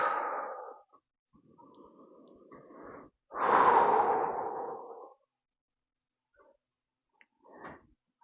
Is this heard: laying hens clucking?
no